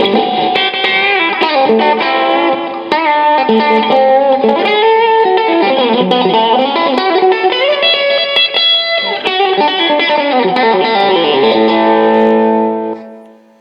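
Electric guitar, a G&L ASAT Special through a Roland Blues Cube amp with delay, playing a bright twangy rockabilly-style country riff with echoing delay repeats, loud and continuous, ringing out at the end.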